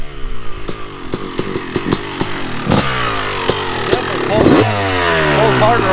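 A Kawasaki KX 500 dirt bike with an aluminum frame conversion revs hard and close by, firing a series of sharp throttle blips before holding a loud sustained rev that slowly falls away.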